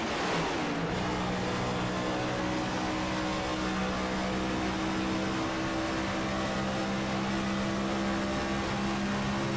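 A race car engine roars continuously from an onboard camera during a Cup Series race at Michigan International Speedway, loud and sustained, with a steady high drone that holds throughout after a brief shift near the start.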